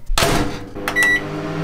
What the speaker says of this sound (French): il faut le mettre 1 minute 15 au micro-ondes et c'est tout